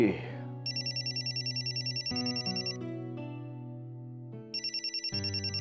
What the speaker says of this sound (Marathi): अरे वा जयहोंचा फोन.